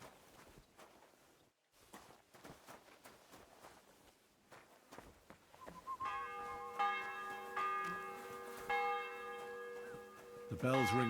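A church bell in the medieval game Kingdom Come: Deliverance II rings out in the latter half with rich, sustained tones, louder near the end, after quiet footsteps and faint ambient movement.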